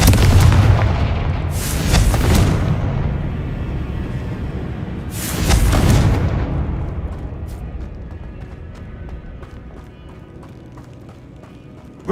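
Confringo fire spells explode in the video game Hogwarts Legacy as two heavy, rumbling blasts a few seconds apart, each trailing into a fading roar. Softer game ambience follows.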